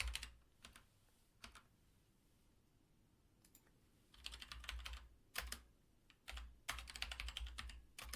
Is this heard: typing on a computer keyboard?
yes